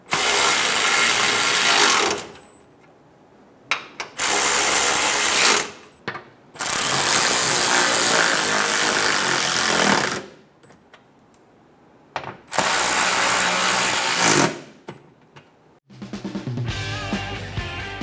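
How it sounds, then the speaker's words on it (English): A ratchet tightens bolts on the plastic shield of a 2014-2018 Chevrolet Silverado 1500, heard as four loud, close bursts of rapid clicking separated by short pauses, with a softer mechanical rattle at the end. "Snug the bolts down."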